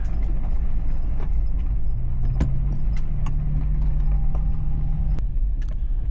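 A car rolls along Carpenter Road in Green Ridge State Forest where dirt turns to snow, a steady close interior rumble with occasional knocks and rattles over the whole stretch.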